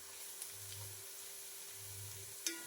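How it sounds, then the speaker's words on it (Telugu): Thinly sliced onions frying in hot oil for prawn dum biryani, a soft, steady low sizzle with gentle bubbling swells and a couple of faint clicks, quiet and continuous with no talk. "ఇలా ఫ్రైడ్ ఆనియన్స్ చేసుకొని తీసి పక్కన పెట్టుకోవాలి."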